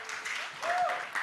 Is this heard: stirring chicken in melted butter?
no